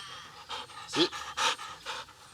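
A dog pants in quick, regular breaths, close and fairly quiet, with a few louder puffs standing out in the rhythm.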